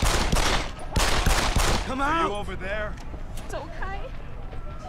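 Gunfire in Deus Ex: Human Revolution, set in Shanghai, erupts as a rapid volley of loud shots in the opening seconds, then gives way to duller in-game noise and faint scattered sounds.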